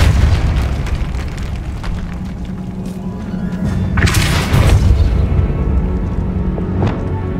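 Repulso spell cast in the Hogwarts Legacy video game, a sharp magical blast near the middle standing out above a steady, busy background of game ambience and low rumble, with another brief burst near the end.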